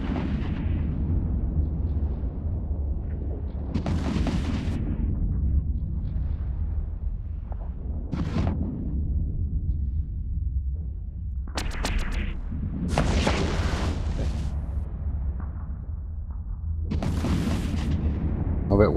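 Weapons fire and explosions in a space video game during a siege: repeated booming blasts and bursts of fire over a constant low rumble, with no talk.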